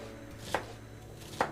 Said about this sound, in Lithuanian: mes turime nuvalyti česnako skilteles ir svogūną, bei supjaustyti juos galima pakankamai stambiai